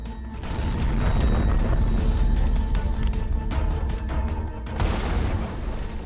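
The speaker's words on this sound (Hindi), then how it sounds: "अचानक धमाका होता है।" A dense, loud run of booming blasts and crashing impacts for a news programme about explosions, a continuous heavy rumble with sharper bursts, including one near the end.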